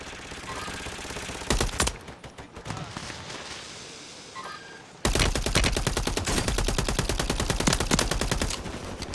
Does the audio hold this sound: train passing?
no